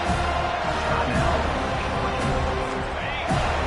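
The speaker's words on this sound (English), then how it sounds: "Decibels rising as the crowd gets behind this defense on third down." Crowd at a college football stadium during FSU versus the Bulldogs, a steady loud roar of cheering behind the defense on third down, with a commentator talking over it throughout.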